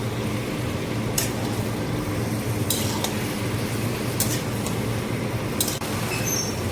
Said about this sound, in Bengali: একসঙ্গে পেঁয়াজ আর চিকেন একসঙ্গে ভেজে নেব